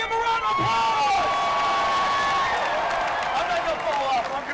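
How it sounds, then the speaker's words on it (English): A large crowd at the Baylor Bears parade celebrating a national championship cheers, whoops and claps in a loud continuous roar, with a speaker's voice carrying over the din through a PA. "Give him a round of applause."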